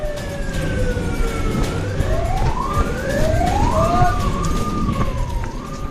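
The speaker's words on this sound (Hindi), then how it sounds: "धुआं और धूल के दरमियान एम्बुलेंस की सायरन की आवाजें।" Several ambulance sirens wail at once, their pitches sweeping up and down and overlapping, with street noise and traffic rumble underneath.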